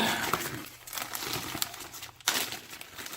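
A big plastic bag stuffed with items from a mailed package crinkles and rustles continuously at close range, with a couple of sharper crackles as it is handled; no one speaks.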